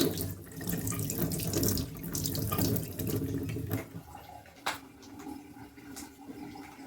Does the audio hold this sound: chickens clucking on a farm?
no